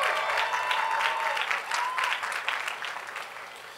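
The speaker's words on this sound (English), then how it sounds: "let's just give your family a round of applause, your friends and your family, and for their support" Audience applause at a high school graduation ceremony, a steady wash of clapping from many hands that gradually thins and fades toward the end, with a faint tonal whistle or voice briefly audible beneath.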